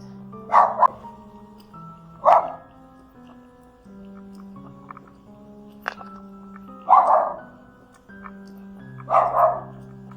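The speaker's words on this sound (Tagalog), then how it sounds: "Yan yung aso na caretaker." A dog barks in short bursts, a single bark and then doubled barks spaced several seconds apart, moderately close with quiet stretches between.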